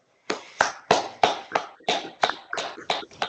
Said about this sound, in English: Can everybody unmute their microphones and give Tristan another round of applause?